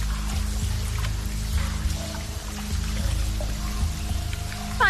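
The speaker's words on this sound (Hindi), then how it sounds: "पानी का स्तर देख के लगता है फायर दरवाजे से पानी लीक हो रहा है।" Water pouring and trickling steadily through a closed fire door into a flooding compartment, a continuous close, fairly loud rushing flow with low rumble underneath and no voices.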